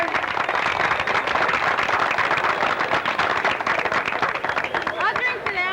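Large round of applause from a crowd for the owners of Monroe Beverage Company, dense steady clapping with cheering and crowd noise filling the whole stretch.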